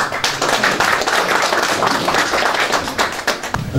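Dense clapping from a crowd at a campaign office opening ceremony, steady and close for a few seconds with no voices over it.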